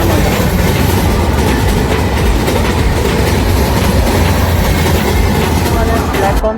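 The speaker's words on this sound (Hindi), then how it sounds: "प्लेटफॉर्म पे आके लगी है Ajmer Agra fort intercity express" The Ajmer–Agra Fort Intercity Express rolls along a platform with a loud, continuous rumble and clickety-clack of wheels. A voice is heard faintly through the din.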